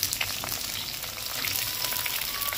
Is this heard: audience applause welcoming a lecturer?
no